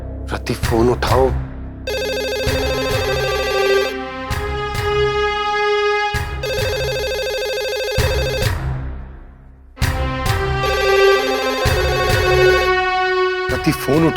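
A telephone bell rings in long repeated bursts with short pauses between them, loud and near, continuing through the scene with voices in the background.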